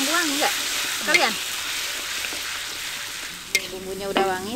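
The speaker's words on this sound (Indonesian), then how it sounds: "Kita kurangi dulu minyaknya. Kita mau goreng bumbu." Ground spice paste sizzles in reduced oil while being stirred, a constant hiss punctuated by scraping, with someone speaking over it at times.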